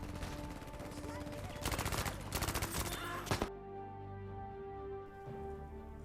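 Rapid bursts from an M1928A1 Thompson submachine gun in Battlefield 5, two loud fully automatic strings followed by a final shot, then quieter battlefield ambience.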